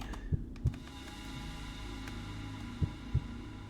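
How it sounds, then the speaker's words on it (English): A video game heartbeat thumps in two paired double beats, soft and low, over a steady electronic hum and faint ambient tones. "the heartbeat's really bright now"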